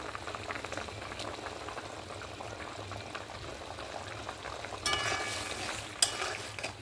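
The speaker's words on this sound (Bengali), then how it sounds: "এবার আমি সর্ষে বাটার ঝোলটা ফুটে গেছে," A mustard paste curry bubbles in a pan as raw hilsa pieces go in, a low simmering burble with stirring, then a brief louder splashy sizzle and a sharp knock near the end, no voices.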